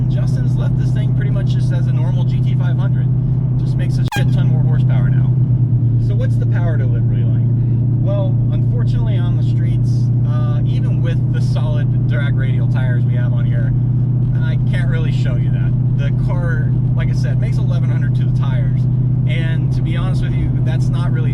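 A modified 2013 Ford Shelby GT500 engine rumbles loudly and deeply at idle, with a brief rev blip early on, while someone talks faintly over the drone.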